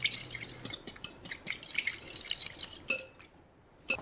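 Tuna salad being stirred with sesame oil and soy sauce, quick wet clinks and dripping taps of a utensil against a bowl, close and fairly quiet, stopping briefly near the end.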